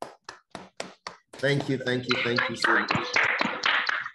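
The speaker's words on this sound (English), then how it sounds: "I wish I can request that we give a resounding applause to Dr. Gbadegesin for this great honor" An audience applauding after a lecture: five separate claps or taps come first, and then a spoken voice takes over for the rest of the clip.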